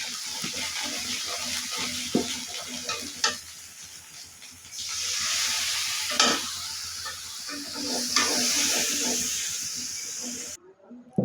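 Ground turmeric and coriander stirred into oil with onion, frying with a continuous sizzle and hiss, a spoon scraping the pan at intervals, close by; a voice speaks briefly over the cooking.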